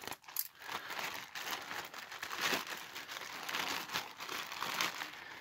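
Plastic parcel packaging from an AliExpress order being opened by hand, a steady run of close crinkling and rustling with a few sharper tearing crackles throughout, no voices.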